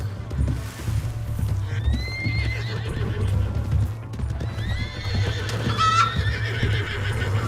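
A horse in Red Dead Redemption 2 whinnies twice in rising, wavering calls over a steady low rumble and clopping hooves, fairly close and with no talk.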